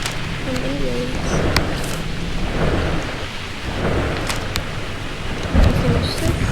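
Rain pours steadily during a thunderstorm while thunder rumbles low and heavy, with a louder crack near the end and a faint voice briefly audible under the downpour.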